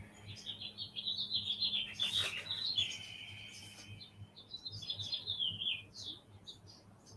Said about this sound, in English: the birds are talking. They came to visit.